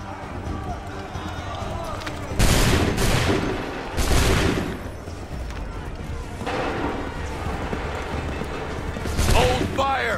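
Massed muskets fire in volleys in the historical game Assassin's Creed III, sharp loud cracks bursting out in clusters over battle noise, with voices shouting commands.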